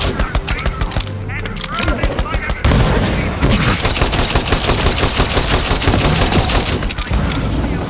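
Rapid automatic gunfire from a gun in Borderlands 3, dense loud bursts that intensify after a brief lull into sustained fire, with voices talking over the shooting.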